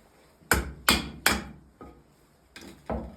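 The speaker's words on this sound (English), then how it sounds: "I'm going to try and chisel this bottom part." Hammer blows drive a chisel into wood while shaping a part for a homemade black powder shotgun: six sharp, close knocks in an uneven rhythm, the fourth noticeably softer.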